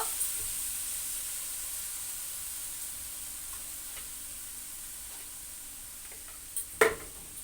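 Dried chillies and mustard seeds spit in hot oil, a faint steady sizzle with scattered pops, and a louder clatter near the end.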